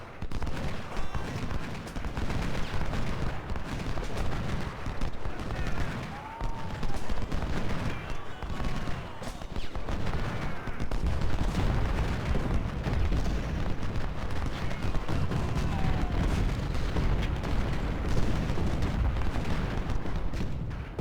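Civil War artillery cannons fire in Ultimate General: Civil War, with repeated booming shots and crackling gunfire layered into a continuous loud battle din, alongside faint scattered battlefield voices.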